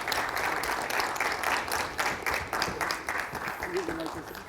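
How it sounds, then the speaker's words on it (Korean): An audience at an academic conference keynote claps in a dense, steady burst of applause, with faint speech underneath. "큰 박수와 함께 모시도록 하겠습니다"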